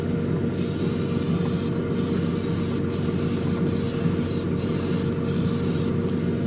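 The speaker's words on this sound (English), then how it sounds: "I'm moving the airbrush pretty fast, but that's because I have the trigger all the way open" An airbrush with its trigger held fully open sprays paint onto a model Ferrari SF90 Spider car body, making a steady, close hiss that runs almost without a break and shifts only slightly in tone as the brush sweeps past.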